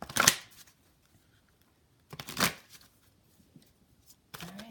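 Oracle cards shuffled by hand in three short riffling bursts separated by quiet gaps, close and fairly soft, no talk.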